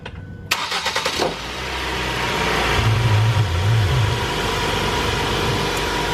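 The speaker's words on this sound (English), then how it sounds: "My wonderful assistant is going to start the car." A car engine cranks a few times, catches, and settles into a steady idle with a brief rise in revs.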